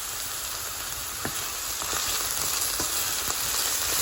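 Onions with dry spices added sizzle in a pan for a corn curry, a steady frying crackle broken by a few sharp utensil clicks, close up, with no one speaking.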